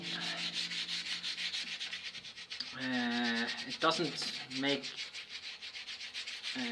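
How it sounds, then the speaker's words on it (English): Steady rhythmic scrubbing with a rough soapy steel wool pad, close and abrasive, while a voice briefly speaks over it. "I have a sponge here with it's steel wool and soap."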